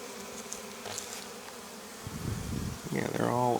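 Honeybees, older winter bees, buzz steadily at an opened hive during spring cleaning: a close, continuous insect drone with a person's voice briefly rising over it near the end.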